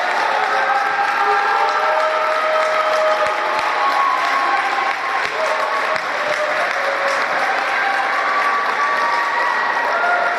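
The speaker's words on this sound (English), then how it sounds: "please join me in giving a big round of applause to our 2012 fall seniors" A crowd at a varsity volleyball match between Harvest Christian Academy and Schaumburg Christian gives loud, dense applause for the 2012 fall seniors, with light cheering mixed in, sustained for the whole stretch.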